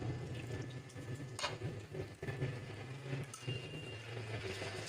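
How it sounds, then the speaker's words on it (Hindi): Water poured into a pot of desi chicken curry, a continuous splashing and trickling stream with a hollow rushing tone, moderately loud and steady for several seconds, with no talk over it. "अब इसमें थोड़ा सा पानी में और डालूंगी जितने में हमारा चिकन ये गल जाए"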